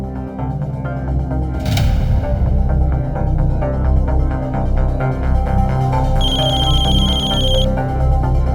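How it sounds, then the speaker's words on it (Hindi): A phone rings repeatedly and goes unanswered, its electronic ringtone sounding steadily near the listener over a low hum, with a brief sharp burst partway through and no talking. "दीदी फोन नहीं उठा रही।"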